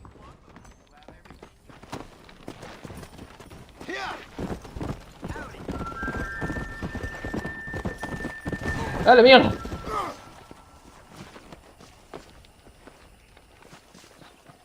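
Horse hooves clip-clop through the Red Dead Redemption game world, passing by under steady game sounds and someone talking in Spanish, with a whinny and a louder burst near the middle before the hoofbeats fade.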